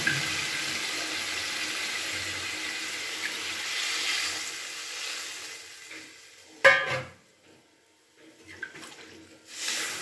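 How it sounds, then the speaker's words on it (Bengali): Water poured into a pan of spice-fried vegetables for a khoira fish curry, a steady rushing pour lasting several seconds, then a few brief splashes and clatters. "এবার আমি পরিমাণ মতো জলটা দিয়ে দিচ্ছি।"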